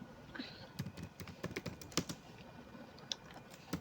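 Fast typing on a computer keyboard, with quick irregular clicks of keys close by and fairly quiet, and no talking over them.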